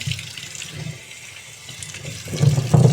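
Running tap water splashes steadily over vegetables being washed in a kitchen sink, swelling louder toward the end as the flow hits the produce, with no voices.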